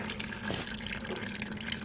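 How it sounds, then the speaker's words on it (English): Clean green antifreeze pours steadily out of a loosened freeze plug hole in a Coronet engine block, making a continuous close splashing, trickling stream with no talking over it. "It's pouring out nice, clean, green antifreeze on that one that I just loosened up there."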